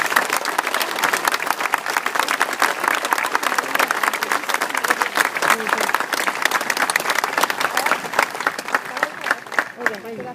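A large audience at a 2012 Marine graduation in South Carolina claps in a loud, sustained, dense round of applause with crisp individual hand claps, tapering slightly near the end.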